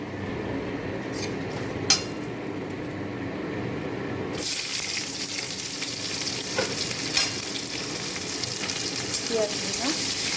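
Whole cumin, dried red chillies and a bay leaf spitting in hot oil in a pan, with a few utensil taps early on, then a sudden loud, dense sizzle that keeps crackling steadily to the end.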